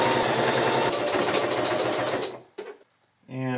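A sewing machine stitches the inner leg seam of thrifted swim trunks in a fast continuous whirring run for over two seconds, then stops; a short mechanical clunk follows and a voice begins speaking at the end.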